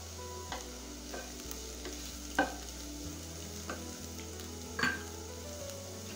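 Ivy gourd (kovakka) fries in a pan with a soft, steady sizzle, broken by several scraping stirs and light clinks from the utensil against the pan; no voices.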